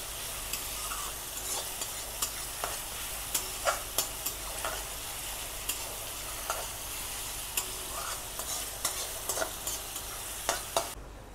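Chopped onion fries in a pan while a spatula stirs it, with a continuous soft sizzle and frequent light scraping clicks at an uneven rhythm, close and fairly quiet.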